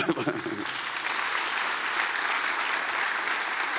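A church congregation claps together in steady, dense applause during a sermon, moderately loud, with a brief voice at the very start.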